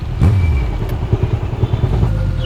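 A motorcycle engine runs close by as a loud, throbbing low rumble with uneven pulses and some clatter, steady for the whole stretch.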